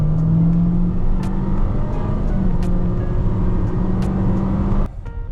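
A 2023 Honda HR-V RS with a CVT accelerates hard, its engine droning loudly and steadily with rising pitch before easing off near the end, heard from inside with no talk.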